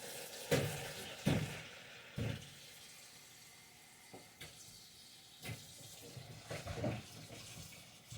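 Water splashing and pouring in a few short bursts, close by and fairly quiet, with a steady faint hiss between them.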